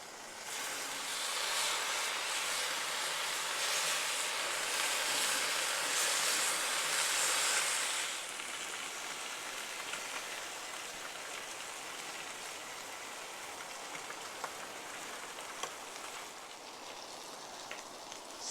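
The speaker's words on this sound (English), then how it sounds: "get a couple pieces on for a sear" Iberico pork sears on a hot grill with a steady, loud sizzle like heavy rain that crackles for several seconds, then settles into a softer continuous hiss with scattered pops.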